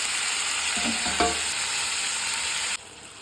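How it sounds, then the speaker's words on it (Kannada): Chopped onion and curry leaves sizzle in a frying pan for cabbage palya, with a steady frying hiss and a couple of brief scraping stirs near the start before the sound drops slightly at the end. "ಈರುಳ್ಳಿ ಹಾಗೆ ಕರಿಬೇವು ಎಲ್ಲ ಹಾಕಿ ಮಿಕ್ಸ್ ಮಾಡಿ"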